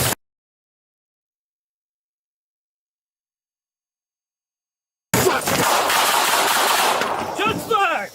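Rapid gunfire erupts during a police confrontation over a domestic incident, a dense burst of close, loud shots after several seconds of silence, with shouting mixed in.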